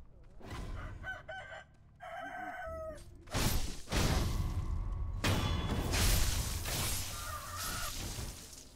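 A turkey-like enemy in the video game Sekiro calls with loud gobbling, crowing cries amid sharp whooshing combat hits and crashes, close and busy throughout.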